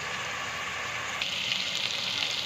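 Finely chopped medium onion cubes fry in oil, giving a soft, even sizzle throughout that grows slightly brighter and busier partway through.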